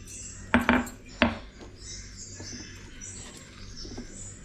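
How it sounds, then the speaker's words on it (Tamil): Garlic cloves are pounded half-crushed in a kitchen, a few close, sharp thuds in a quick cluster followed by one more strike, then a quiet room with faint rustling. "பூண்டும் இந்த மாதிரி ஒன்றும் பாதியமாக தட்டி எடுத்துக்கலாம்"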